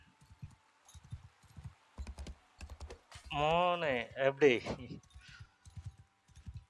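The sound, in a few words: horse hooves galloping in Mount and Blade 2 Bannerlord video game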